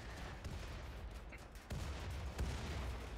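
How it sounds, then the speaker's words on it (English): Explosions and gunfire in the RimWorld video game, a dense low rumble of overlapping blasts with sharper bursts near the middle and toward the end, heard alone at fairly low volume. "Oh, all these explosions. I don't even know why things are blowing up like that."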